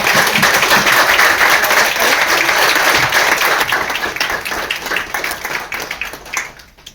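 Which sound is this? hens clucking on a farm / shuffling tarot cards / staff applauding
staff applauding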